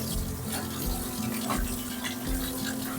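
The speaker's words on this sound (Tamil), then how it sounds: "இந்த சிக்கன் இருக்குல்ல இதை வந்து நம்ம கழுவி வச்சுக்கணும்" Raw chicken is washed in water in a home kitchen, giving a continuous close splashing and running-water sound with steady sloshing throughout.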